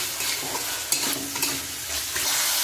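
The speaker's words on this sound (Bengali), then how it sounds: "এটা দিয়ে আবার একটুখানি কষিয়ে নেব" Chhana curry with added sugar being stir-fried in a pan, a steady close sizzle with scraping stir strokes throughout, no talk.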